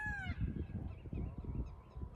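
A red-wattled lapwing in the Konkan gives a couple of sharp, descending calls at the start, followed by low rustling and handling noise.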